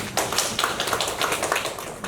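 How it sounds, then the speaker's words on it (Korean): Audience clapping in a hall at a Korean arts-education program briefing, a dense, steady patter of many hands applauding a staff member being welcomed to the front, lasting a couple of seconds with no talking. "박수 부탁드리겠습니다"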